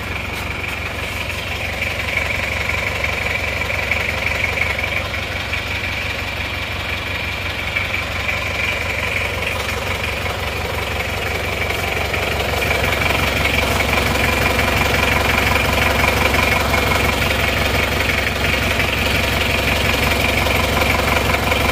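An engine fitted with new NPR cylinder liners and piston rings, smoking and leaking oil, runs at a steady idle with a continuous close hum and a slight rise in loudness partway through.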